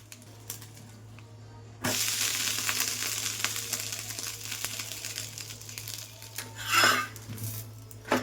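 Rice roti (akki rotti) roasts on a hot tawa, a steady, moderate sizzle and crackle that starts abruptly and holds, with a brief louder hiss and clatter as it is handled.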